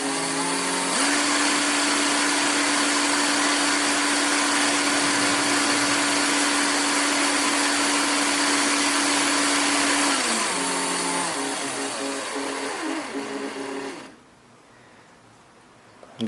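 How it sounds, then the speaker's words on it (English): Electric drill run in reverse during a speedometer fix on a 1968 MGC, a steady loud whirring motor held at constant speed, pitch dipping near the end before cutting off abruptly. "make sure the drill is in reverse, and then you can slowly start the drill"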